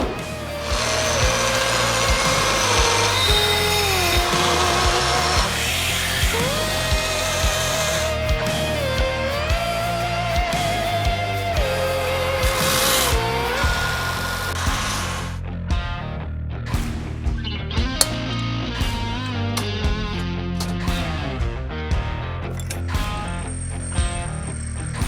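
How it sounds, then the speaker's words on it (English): Power drill boring a hole in forged steel for a mammoth cleaver, a loud whirring that rises and falls in pitch for about fifteen seconds, followed by quieter scraping and clicking with no talk. "And drill our hole."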